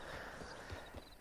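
Horse hooves clip-clop at a walk in Red Dead Redemption Online, a few faint, soft thuds over a low background hum.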